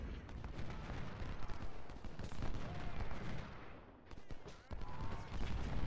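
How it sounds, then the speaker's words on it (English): Musket volleys in the Civil War strategy game Ultimate General: Civil War, a dense crackle of distant gunfire rolling continuously under battle noise. "Wilcox, fire a volley into Boomer's Brigade"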